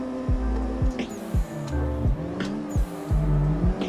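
A car drifting in a sim racing game, its engine note rising and dropping sharply several times in quick succession, with brief squeals and bursts of revving over a steady mechanical drone.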